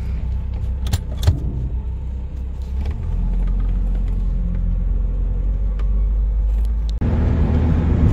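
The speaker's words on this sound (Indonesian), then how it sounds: "kita melaju di kecepatan antara 100 sampai 140 km per jam" Cabin sound of a 1985 Honda Accord cruising on a highway at 100 to 140 km/h: a continuous low road and engine rumble with scattered rattles and clicks, the drone deepening and swelling partway through.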